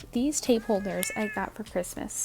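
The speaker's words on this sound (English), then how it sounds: "Please excuse my cat." A cat meows briefly in the background, faint and mostly buried beneath someone speaking close to the microphone throughout.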